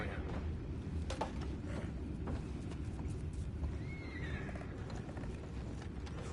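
Horses in Red Dead Redemption 2 whinny and snort over a steady low rumble of hooves clip-clopping, with a clear neigh rising near the middle of the stretch.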